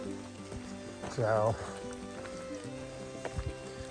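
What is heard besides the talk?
rain falling on a hiker on the Appalachian Trail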